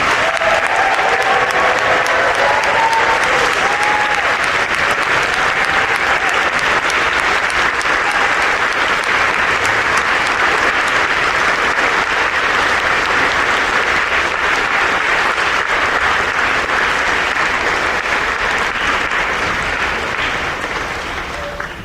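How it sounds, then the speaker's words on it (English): A standing ovation at a Bergen Tech class of 2027 induction ceremony, with dense, loud, sustained clapping from the whole audience that continues for over twenty seconds and tapers slightly at the end. "Everybody please give them a standing round of applause."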